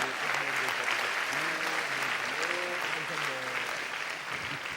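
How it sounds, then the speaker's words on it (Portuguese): An audience applauds steadily while a voice speaks and laughs over the clapping, the applause a dense even wash that holds throughout and fades slightly at the end. "Pode aplaudir ao Senhor."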